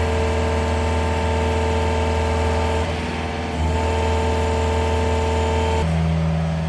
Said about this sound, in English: Let's get in the excavator, try to lift this up and see how that goes.